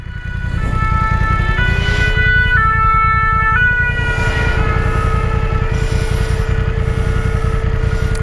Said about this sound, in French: Alors j'ai une ambulance derrière.